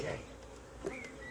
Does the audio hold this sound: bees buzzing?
yes